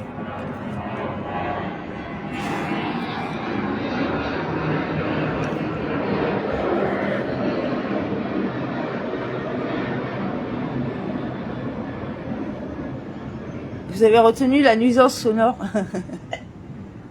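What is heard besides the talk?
airplane flying overhead, descending to land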